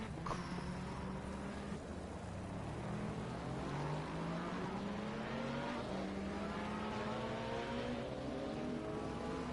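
Race cars lapping Donington Park in an eSports racing game, several engines droning loudly together with rising and falling pitch as they accelerate and shift up, a steady close wall of engine noise with no talking.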